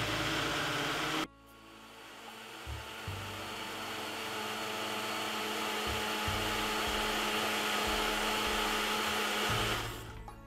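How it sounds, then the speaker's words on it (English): A kitchen blender whirs steadily while blending a Caribbean strong back drink, starting abruptly after a brief noise and running loud and continuous for several seconds before winding down. "we're gonna blend it for roughly 7 minutes until it come really, really, really fine"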